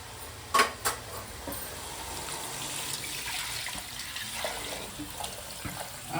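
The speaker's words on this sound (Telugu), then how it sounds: "ఇప్పుడు మనం ఎసురు పోసుకుందాం." Water pours into a pot for cooking rice, a steady close trickle and splash with a couple of brief knocks near the start and no talking.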